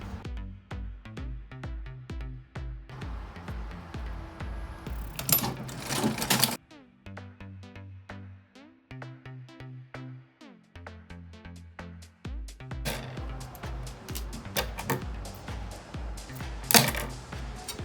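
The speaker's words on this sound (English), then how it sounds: "So starting from the wrong side, I'm going to start sewing." A sewing machine stitches a cowl neck blouse in steady, rapid mechanical runs, stopping and restarting several times, with louder rattling bursts between the stitching runs.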